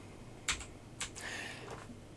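A computer keyboard clicks quietly in a few scattered keystrokes, one sharp tap followed by a small cluster of softer taps. The typing is faint and sits over a low background hum, with no voices.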